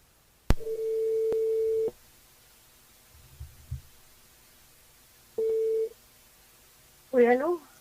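Telephone line tones during a call-in radio show: a long steady tone, a short pause with faint low rumbles, then a shorter repeat of the same tone, followed by a brief voice.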